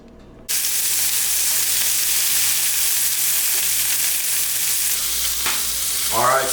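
Pork sizzles steadily in a hot pan, a dense continuous frying hiss that starts abruptly and holds loud and close throughout, with a faint clatter near the end.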